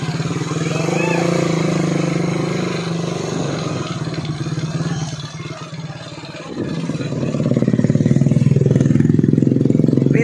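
A habal-habal motorcycle taxi engine runs loudly and steadily close by, dipping briefly then revving back up with rattling clatter, in a rural barangay setting.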